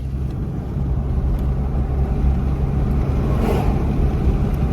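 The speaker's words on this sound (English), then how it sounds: "That was a truck that went by." A loud, steady low roar of road and wind noise inside a new Toyota Tacoma swells slightly as a truck passes nearby.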